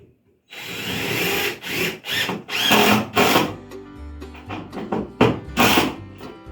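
Nails are driven into a plywood subfloor on a cabin addition in a rapid run of close, sharp impacts with short bursts of mechanical whir between them, several hits in quick succession.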